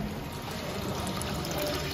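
Water from a pump pours steadily into a tank as a level control fills it, a continuous close trickling and splashing wash with no talk over it.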